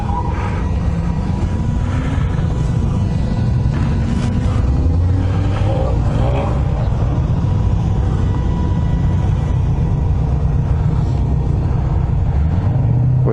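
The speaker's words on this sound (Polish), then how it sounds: "pod sam start samochodów, które biorą udział w eliminacjach driftowych" Loud, continuous engine rumble from drift competition cars revving nearby at the start line, with rising and falling engine pitch throughout and no speech.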